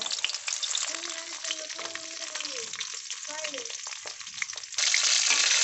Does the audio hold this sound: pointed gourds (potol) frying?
yes